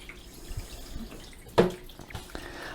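Water drains from a new washing machine, a low gurgling trickle with a sudden splashy gulp partway through, close and fairly quiet.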